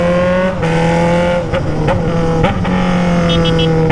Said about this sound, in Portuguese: Nunca pilotei uma moto com um barulho desse aqui